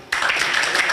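Applause for a speaker at a student union annual general meeting in a hotel breaks out suddenly as a dense, steady burst of clapping from a room of people, lasting about a second.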